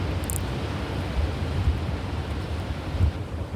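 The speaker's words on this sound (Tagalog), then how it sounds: "Hanggang bukas yata ang bagyo." Strong typhoon wind during a signal no. 10 storm, a steady loud roar with low buffeting gusts against the microphone and no voices.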